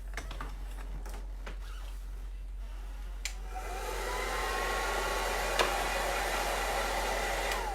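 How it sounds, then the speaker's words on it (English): A hair dryer blows over a painted reverse canvas project, a steady close airy whoosh that starts softly and swells louder midway, with small clicks and handling noises around it. "All right, I'm gonna blow it dry a little bit."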